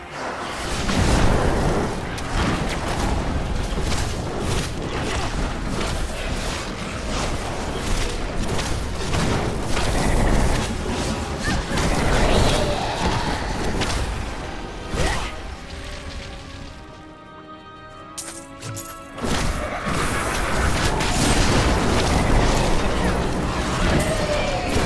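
Explosions and booming impacts from attacks in Diablo Adventure Mode, dense and continuous over loud game audio with thumps and bursts, a brief lull near the end before the barrage resumes.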